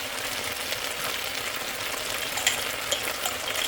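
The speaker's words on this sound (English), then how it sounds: "I'm just adding the onions and the veggies in the same pan" Onions and vegetables frying in a pan for a beef stir fry, a steady bright sizzle with a few sharper pops and spits near the end, close and alone without talk.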